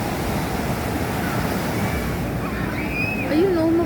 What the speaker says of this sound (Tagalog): Malakas nga lang ang alon